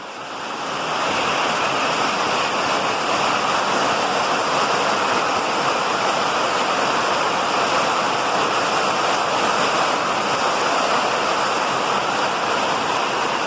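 Heavy rain pours down in a storm, a dense, steady roar that holds at full strength throughout without any voices.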